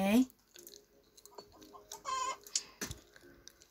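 Chicken clucking in the video game Minecraft, a few short clucks and squawks scattered between quiet gaps, with a person talking at moments.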